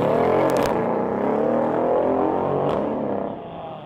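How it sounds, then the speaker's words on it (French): A 2017 Mercedes CLS 63 AMG shooting brake tuned by Renntech to 740 hp gives a loud, sustained engine roar that rises and holds. It eases off near the end, with a couple of short sharp clicks along the way. "On va essayer maintenant la Mercedes CLS 63 AMG revue par Rentec."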